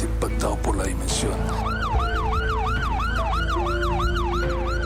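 Ambulance sirens wail in a steady rapid up-and-down cycle, loud and close, over a dense rumble of traffic and emergency vehicles at the scene of a deadly tragedy, with a brief jumble of other siren tones at the start.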